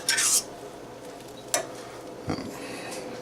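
Onions go onto the top of a dish in a pan with a few soft clinks and light scrapes of utensil against metal, brief taps spread over a quiet kitchen background.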